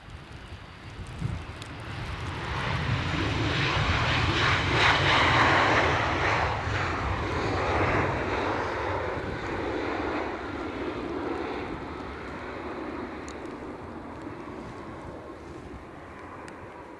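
Airliners roar on takeoff in strong wind at Edinburgh Airport, a broad sustained jet rumble swelling to a peak and slowly fading, with wind buffeting the microphone and no talking.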